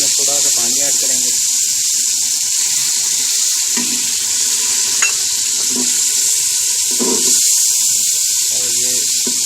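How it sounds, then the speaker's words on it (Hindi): Water poured into a pan of frying pickle-style potato masala, a loud continuous sizzle and hiss with bubbling spatter throughout, while a voice speaks intermittently over it. "अब इसमें थोड़ा सा पानी ऐड करेंगे।"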